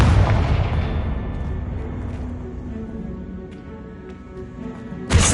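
Confringo, the fiery explosive spell from the video game Hogwarts Legacy, goes off as a loud booming blast that rumbles and slowly fades over several seconds, then a second sharp burst hits right at the end.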